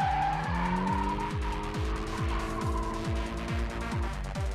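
A drift car at a Japanese drift festival track in Honjo, Saitama, accelerating hard with repeated engine revs rising and dropping while tires squeal in a long continuous slide, loud and close.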